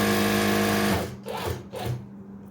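An electric sewing machine stitches a straight seam on a panel shirt with a loud, close hum. It stops abruptly partway through, leaving a few soft handling rustles.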